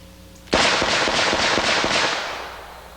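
A single full-charge 460 Rowland revolver shot from a 4-inch barrel cracks out loud and near, followed by a long rumbling, rolling echo that slowly fades over the next couple of seconds.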